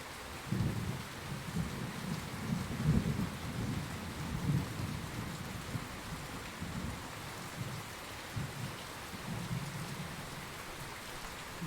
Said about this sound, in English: That rain is loud, isn't it?